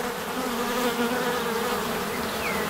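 Black honey bees at an open hive fill the air with a dense, continuous buzzing hum, close and steady throughout, occasional single bees whining past, with no talking.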